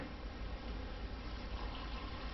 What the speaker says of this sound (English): Let's go ahead and close off our lid and pour the water back in.